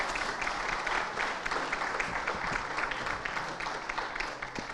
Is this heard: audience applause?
yes